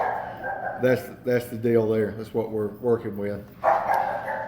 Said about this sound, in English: y'all just excuse the wild dog that I've got going on there